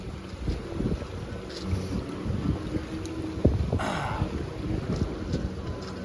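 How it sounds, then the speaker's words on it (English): A sailboat crosses rough, high seas with large waves, heard as steady roaring wind buffeting the microphone and sloshing water against the hull, with a louder splash midway and no voices. "Try not to get tossed around by too much by these massive waves."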